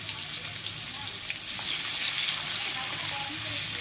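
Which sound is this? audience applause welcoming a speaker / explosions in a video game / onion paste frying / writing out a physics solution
onion paste frying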